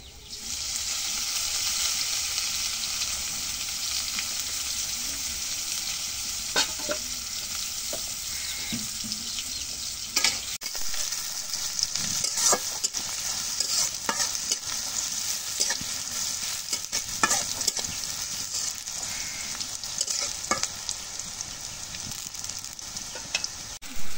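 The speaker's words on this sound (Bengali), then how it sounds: "আমি নাড়া দিই" Food stirred in a hot frying pan for a home-cooked chicken bhuna, with steady sizzling throughout and repeated scraping stirs and clinks, close and fairly loud, with no talk over it.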